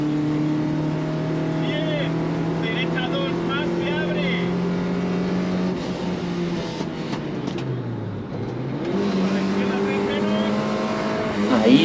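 Rally car pushing through a twisty stage of blind, linked corners at Rallysprint Talavera 2023, engine droning loud and steady with revs dipping and rising through a corner, under continuous commentary.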